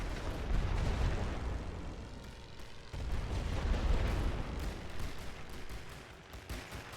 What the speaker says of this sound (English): Well, actually, that's a rolling barrage.